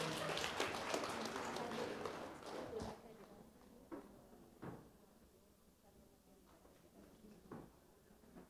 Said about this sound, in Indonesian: Mohon berikan tepuk tangan yang meriah